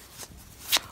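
Two short papery riffles of playing cards being shuffled, the first soft and the second louder and sharper, close by with no talking.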